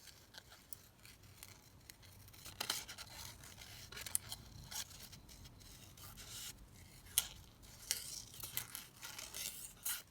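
Scissors snip through paper to cut out paper flowers at a desk, a faint, close, irregular series of crisp cuts and rustles with no talk.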